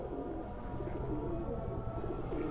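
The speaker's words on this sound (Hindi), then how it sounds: "इलाहाबादी कबूतर बहुत ही अच्छी क्वालिटी का" An Allahabadi pigeon, a light tournament flyer, coos in a low continuous rolling murmur up close, with no talk over it.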